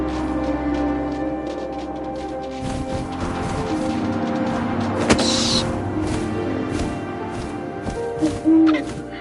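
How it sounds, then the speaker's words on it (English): An owl hoots once in the game What Remains of Edith Finch, heard over a steady wind-like background with a brief crash-like hit midway and no talking. "And suddenly, I was an owl."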